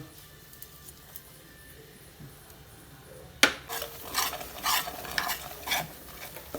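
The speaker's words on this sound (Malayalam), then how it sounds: "ഇത് രണ്ടും നമുക്ക് നന്നായി ഇളക്കി മിക്സാക്കി കൊണ്ടിരിക്കുക" A spoon stirs roasted, ground fenugreek and mustard powder into mango pickle in a pan. After a quiet start, a sharp scrape leads into repeated close scraping and sizzling strokes in an uneven rhythm.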